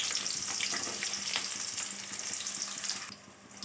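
Onions sizzling and frying in a pan of oil with fennel seeds, cinnamon sticks and cloves, a steady close crackle with occasional stirring, easing off slightly near the end.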